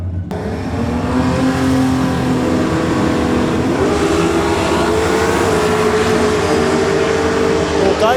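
Holden Torana with a 350 Chev V8 racing a VL Commodore with a Barra engine in a no-prep drag race, loud continuous engine roar with rising revs throughout, close and strong.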